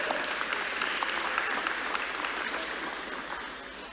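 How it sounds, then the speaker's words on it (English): An audience at a church quadrennial session gives a round of applause, steady dense clapping that stays full before slowly fading slightly, heard alone without talk. "Give her a good round of applause."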